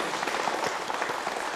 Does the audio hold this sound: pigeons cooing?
no